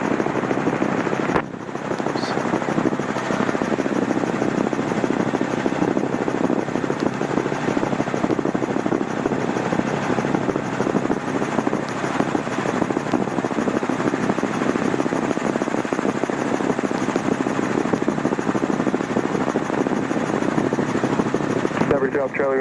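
A Robinson R22 helicopter in flight, its engine and rotor giving a loud, steady, unbroken drone heard from inside the cabin throughout, with radio voices faintly under it.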